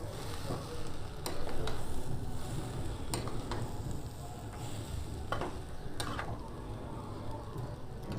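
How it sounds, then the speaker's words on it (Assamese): A spoon stirring spice paste with cumin-coriander powder in a pan for khichdi, soft scraping strokes and light sizzle at low level, with a few sharp clinks of utensil against metal. "এতিয়া মই ভালদৰে লৰাই দিম।"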